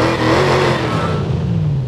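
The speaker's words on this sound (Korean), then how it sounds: "제가 시동 한번 켜볼게요. 스타트." A classic car engine with a 0–100 km/h time of about seven seconds gives a loud, close, rumbling roar that holds steady and then eases slightly over two seconds.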